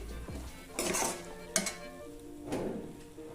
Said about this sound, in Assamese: পাচলিখিনি দি এনেদৰে ভালদৰে মিলাই লৈছোঁ।